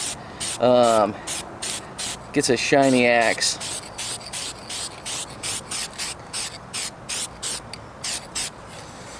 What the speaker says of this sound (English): let's spray it, let's protect it so that whoever wins it